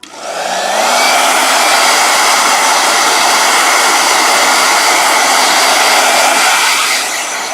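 A blow dryer spins up and runs at full power, a loud, close, steady whine and rush of air that holds for several seconds before easing off at the end.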